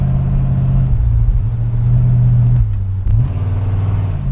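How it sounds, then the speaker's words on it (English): A car engine idles roughly and then revs, its pitch surging and dipping with a sputtering stumble as the throttle opens and the carburetor secondaries open too early, close and loud. "It's almost like the secondaries are opening way too easily or quickly."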